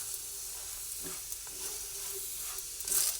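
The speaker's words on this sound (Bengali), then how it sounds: "দুটো দিকই ভালো ভালো চেপে চেপে পরোটাগুলোকে ভেজে নিচ্ছি" A tomato paratha fries in oil in a pan, giving a steady, moderate sizzle with brief pressing or scraping sounds and a louder hissing burst near the end, with no talk.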